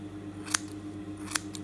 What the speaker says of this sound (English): Now let's remove this unaligned portion of the hair. Just cut it like you see it in here.